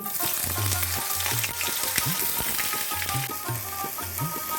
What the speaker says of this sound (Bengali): এই বড়ি ভাজা তেলেই আমি বেগুনগুলো ভেজে নিচ্ছি